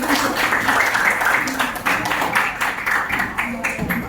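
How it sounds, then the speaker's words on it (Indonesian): A classroom of students bursts into applause, a dense, sustained patter of many hands clapping at once, with voices mixed in throughout. "Oke, tepuk tangan buat ini."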